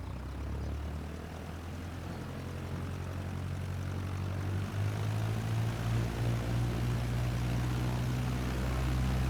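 Cessna 152 propeller engine droning steadily in flight in MSFS 2024, a loud, even hum near Spa's Eau Rouge, swelling slightly toward the end, with no voices.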